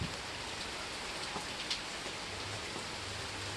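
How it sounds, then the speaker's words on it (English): Steady rain patters down in a dense, even hiss, with no voices. "It is raining."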